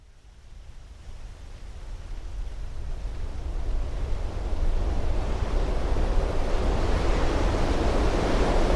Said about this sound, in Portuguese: um barulho terrível. Do vento contra a fuselagem, conforme o avião cai do céu.